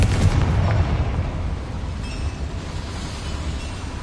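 A Confringo spell explosion in the Hogwarts Legacy video game gives a loud, broad booming burst at the start that rolls into a sustained rumbling roar, with no talk over it.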